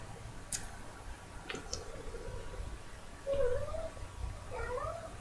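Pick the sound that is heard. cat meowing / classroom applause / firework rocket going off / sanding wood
cat meowing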